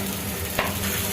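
A finger millet (nachni) thalipeeth fries in oil on a tava griddle, giving a brief, close, continuous sizzle with a slight crackle and no voices.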